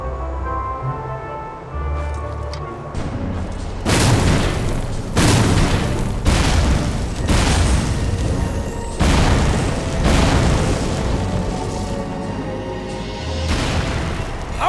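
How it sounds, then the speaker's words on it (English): Undead cannons firing in the game Astra Knights of Veda: a series of heavy, booming blasts follow in quick, uneven succession over a rumbling battlefield backdrop, loud and close. "I'm referring to the cannon shot by the undead in front!"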